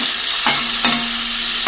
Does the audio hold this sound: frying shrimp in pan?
yes